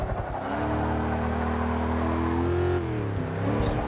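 Steady 1970s muscle car engine in the Over-Drive racing game, a loud continuous drone with rising and falling revs as the car drives through a lap, shifting pitch near the end.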